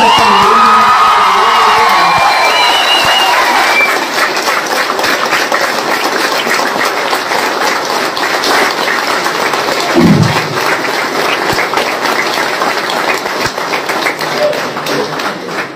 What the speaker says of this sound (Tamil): இங்க தலைவர்னு சொன்னாலே கைத்தட்டல்.